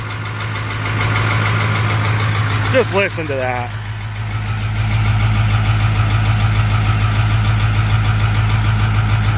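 A 1976 Pirsch pumper fire truck engine idles nearby with a steady, deep rumbling drone that swells a little louder partway through, while someone speaks briefly over it.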